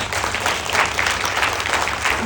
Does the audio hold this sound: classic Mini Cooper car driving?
no